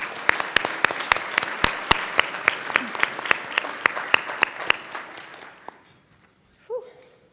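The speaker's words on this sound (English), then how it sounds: "Please join me in a round of applause." A crowd claps for teacher education program graduates at a summer institute, with loud, distinct individual claps that taper off and fade to quiet, followed by a brief exhale from the speaker.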